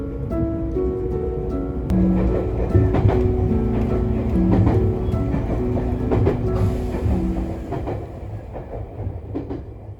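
Train ride through the Japanese countryside on a line toward Besho Onsen: a steady low rumble of the railcar with rhythmic clickety-clack of wheels and a sustained tonal motor whine throughout, fairly loud and close, no talking.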